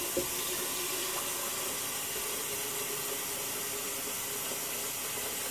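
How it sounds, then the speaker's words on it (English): A kettle being filled from a running kitchen tap, with a steady broadband rush of water drumming into the vessel throughout, close and fairly loud, with no talking. "fill it with water all the way past that metal bit down there"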